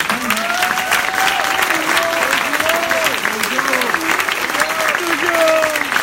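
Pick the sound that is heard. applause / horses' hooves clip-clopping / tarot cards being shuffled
applause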